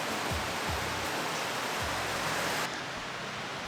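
Steady broadband rain drums on a clear roof, a dense even hiss with a few low thumps, then dropping slightly quieter near the end.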